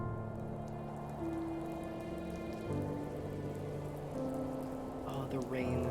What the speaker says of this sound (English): Oh, the rain. The rain sound,